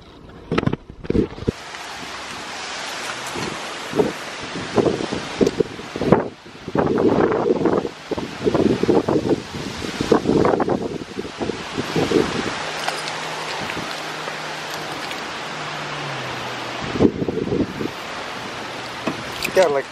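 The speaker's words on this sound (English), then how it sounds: "It's pretty windy on a Monday morning." A strong morning windstorm that has brought down trees and branches gusts in roaring bursts, buffeting the microphone amid rustling, with a low steady hum and a person talking at times.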